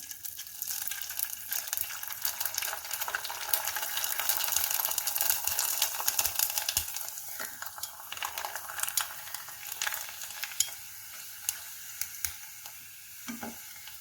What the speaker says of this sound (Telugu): ఆయిల్ వేడెక్కిందండి ఇది వేసి ఫ్రై చేసుకుందాం